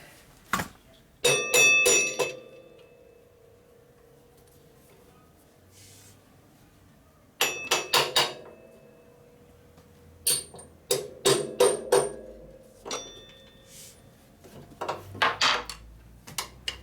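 Hammer tapping on a part of a custom Harley Evo chopper bobber during brake repair, sharp metallic clinks in short irregular clusters separated by quiet pauses, close and fairly loud.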